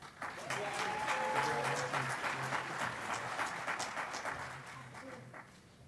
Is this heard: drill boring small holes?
no